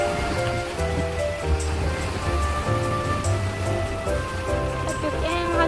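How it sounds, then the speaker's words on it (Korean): Sea waves washing ashore on Geumodo island near Yeosu, a constant surging wash heard together with music and voices. "파도가 그냥 밀려옵니다."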